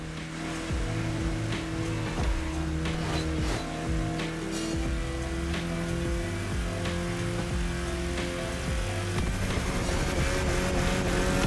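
Continuous engine drone of a car cruising in The Crew Motorfest, steady and fairly loud throughout with music-like tonal layers and occasional ticks, no talk.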